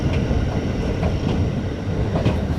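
A train running on the railway at night between Khardah and Dum Dum, heard from on board as a steady loud rumble with rhythmic clickety-clack of wheels over rail joints and no talk.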